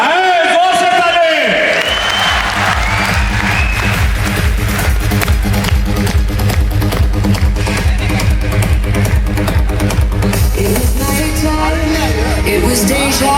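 An audience at the Aakash VYOM 2025 felicitation event in Patna claps loudly and steadily over booming amplified music after a brief spoken line, the rhythm holding for more than ten seconds.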